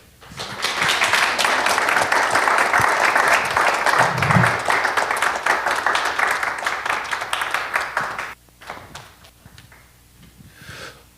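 Book-talk audience applauds the professor, sustained crowd clapping for about eight seconds that then stops abruptly, leaving a few scattered claps and quiet room noise.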